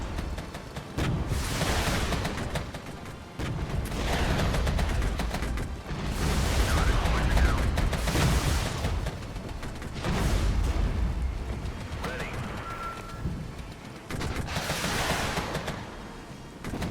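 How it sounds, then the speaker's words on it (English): Heavy gunfire and artillery fire from the military strategy game Regiments, with dense rumbling barrages that swell and fade in repeated waves and sharp blasts breaking through over a constant loud bed of combat noise. "Taking heavy direct fire."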